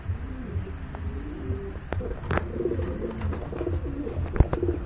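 Black Lahori pigeons coo in a steady run of soft, throaty calls, close by and repeating throughout, with a few sharper taps and rustles mixed in.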